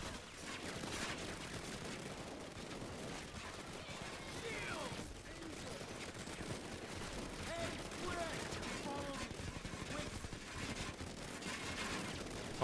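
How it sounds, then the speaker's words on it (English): Payday 2's Slaughterhouse heist plays out with sustained bursts of automatic gunfire and explosions, a dense, rapid, fairly faint barrage, while players talk over it. "Why is all that shooting?"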